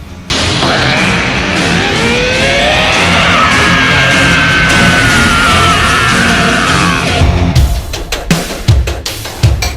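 Frieza, the Dragon Ball villain, lets out a loud, sustained roaring scream as he powers up to full strength. It lasts about seven seconds, then breaks off into a few sharp, choppy bursts.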